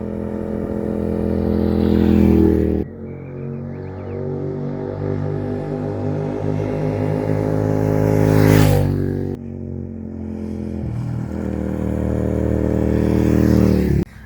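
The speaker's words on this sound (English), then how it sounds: "we've thrown a leg over the bike and we've set out to ride" A motorcycle on a touring ride through Tasmania, its engine droning loud and close with rising and falling revs as it shifts through gears, and wind rush building toward the middle.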